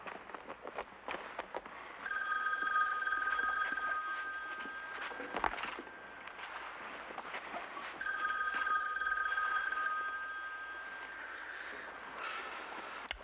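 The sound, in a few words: telephone ringing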